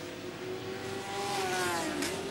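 A superbike races past at Brands Hatch in 1975, a steady high engine whine rising and shifting in pitch as it goes by, loud and continuous over a busy track background with no talking.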